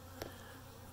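Honeybees robbing a small beehive hum in a faint, steady buzz, with one brief louder swell near the start.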